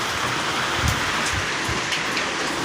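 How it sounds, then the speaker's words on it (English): Hard rain pours steadily outdoors beside a road, a dense unbroken hiss with occasional heavier drops and drips landing on nearby surfaces, heard with no voices. "It's just drizzling and rain."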